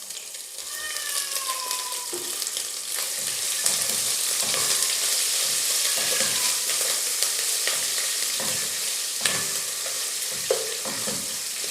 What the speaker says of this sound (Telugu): ఇవి వేగాయి కాబట్టి 1 టేబుల్ స్పూన్ అల్లం వెల్లుల్లి పేస్ట్ కూడా వేసుకుందాం.